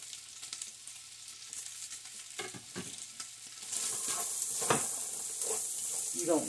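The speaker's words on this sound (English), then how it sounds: "Now that it's starting to get some color, I'm going to add my onions." Onions added to a pot with greens, a soft crackle and occasional stirring clinks that swell into a brighter, louder sizzle as they hit the hot fat, heard close with no talk.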